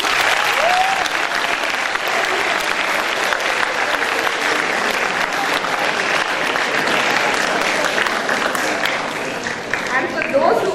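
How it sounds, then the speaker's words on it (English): A school audience claps after a drama performance, loud sustained applause from a large crowd that runs the full length, with a few voices mixed in. "I would ask for one last round of applause."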